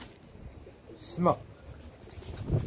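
Racing pigeons cooing in brief soft calls amid background noise, with someone speaking over them.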